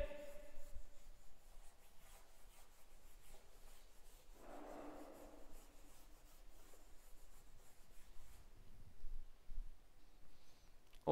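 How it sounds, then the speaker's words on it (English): An eraser rubs answers off a classroom board in soft, scratchy strokes, with a brief denser burst midway over a quiet, hissy room. "So I will erase answer number 1 and 2"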